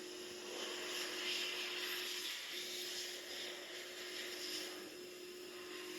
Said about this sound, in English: This hand dryer is so loud